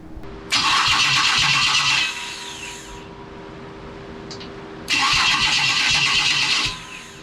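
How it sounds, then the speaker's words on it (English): A Jaguar special's engine cranks on its starter in two loud bursts of steady whirring, each lasting about one and a half to two seconds, separated by a quieter pause of background hum. "Let's go connect the starter and see what happens."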